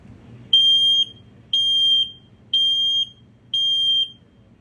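Four loud, evenly spaced high-pitched beeps, each about half a second long with short gaps between, come from a carbon monoxide detector being tested inside a 2022 Cruiser RV Shadow Cruiser 257MKS travel trailer, with a low background rumble.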